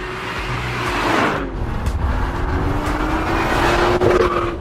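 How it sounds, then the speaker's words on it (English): A 2018 BMW M2 engine drones steadily as the car drives, with a rising and falling pitch suggesting gear changes and shifts in engine speed, loud and close throughout with no talking. "This is the BMW M2, the smallest and most affordable M car money can buy."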